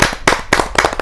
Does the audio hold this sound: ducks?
no